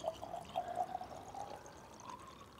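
Water pours into a vase being filled for an autumn bark decoration, a steady close trickle for about two and a half seconds.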